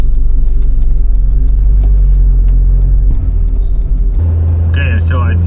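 A Mazda Miata engine idles with a steady low rumble close by, the tone shifting slightly partway through as a voice speaks briefly near the end.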